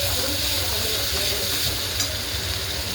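A steady hiss of roasting in a pan while the contents are stirred, a constant close sizzle with soft scraping and no voices.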